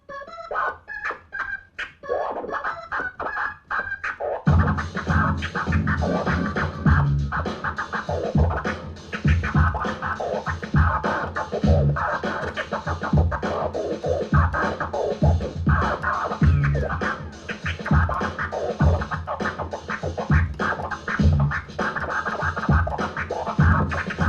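A DJ scratches a record on a turntable over a loud beat, working through quick chirp and transformer scratches in stuttering, rapid bursts, with a sparser passage of scratches before the music comes in.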